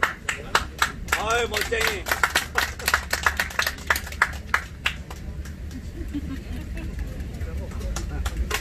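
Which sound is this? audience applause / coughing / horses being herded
audience applause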